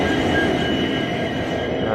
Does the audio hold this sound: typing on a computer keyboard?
no